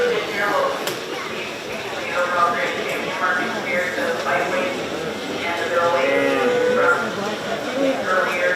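Market beef steers are shown at the 2025 Shelby County Fair 4-H/FFA show ring, where a steady murmur of crowd voices and shuffling fills a busy arena and faint animal sounds mix in throughout.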